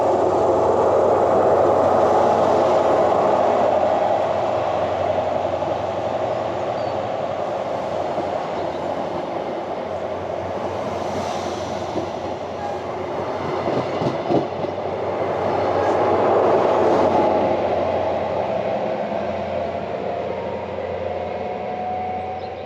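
A GWR Class 43 high-speed train pulling out of Camborne station on a Penzance service, a loud continuous diesel roar with rolling wheel clatter that swells and fades.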